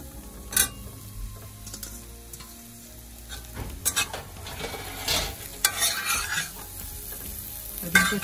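Cauliflower and carrot pickle with spices being stirred in a hot pan, with steady sizzling and frying under repeated scraping and clinking strokes of a spoon, close and fairly loud throughout.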